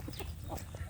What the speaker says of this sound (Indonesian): Di siang hari ini saya memberi makan ayam kampung saya sedulur